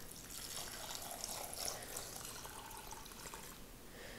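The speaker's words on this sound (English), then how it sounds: "when I put the water in, I'm not putting it directly on top" Water poured slowly into a slow cooker down the side rather than over the food, a faint steady trickle and splash with no talking.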